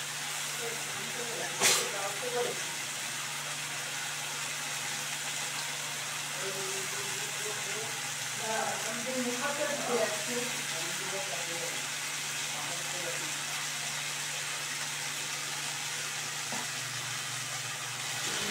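Boiled soybeans and fried potatoes stir-fried with spices in oil in a pan for a vegetarian curry, giving a steady, close hiss and sizzle throughout with a voice talking softly over it.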